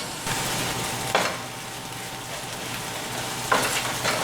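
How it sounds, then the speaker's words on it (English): A flour roux for French onion soup sizzles steadily in a pot while a spoon scrapes and stirs, with a couple of sharper scraping strokes standing out. "I'm going to have to cook this again until it gets all the flour taste out"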